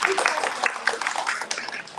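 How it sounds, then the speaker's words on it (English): Audience applause at a gathering about women in Tallahassee's micro-brew scene, a short burst of dense, steady clapping with some voices mixed in. "A round of applause for her."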